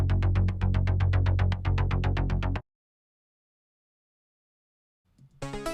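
An arpeggiated pluck synth bass from the Diva synth, low and upper layers combined, pulses in fast even sixteenth notes for a few seconds before stopping, followed by silence and then another synth sound entering near the end.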